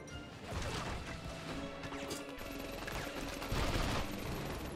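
Rapid gunfire and crashing impacts from the Medal of Honor Vanguard video game on PS2, a dense, continuous burst of shots and smashes filling the whole stretch at steady loudness.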